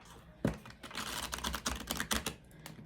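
A deck of cards shuffled during a spiritual card reading: a fast run of crisp, clicking riffle flutters with a sharp burst near the start, close and fairly loud, with no voice.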